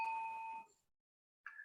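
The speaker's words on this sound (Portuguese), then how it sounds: "3 sinos." A meditation bell rings once with a clear, sustained tone that fades into silence, then a second strike begins just before the end; quiet and alone, with no voices.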